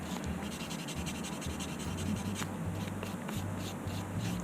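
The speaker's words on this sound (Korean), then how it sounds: "밀면서 힘을 좀 가해갖고 이제 광을 내주는 거예요." Steady rubbing strokes of a hand buffer being pressed and pushed across a surface to bring up a shine, a close, continuous scratchy friction with slight rhythmic surges and no talking.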